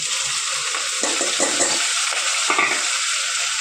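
Onions frying with spices and green garlic in a pan for a green coconut pulao, with a loud, continuous close sizzle and a few stirring scrapes throughout.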